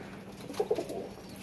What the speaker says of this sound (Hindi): ये है रामपुरी असल कबूतर जो है, नीली आंखों में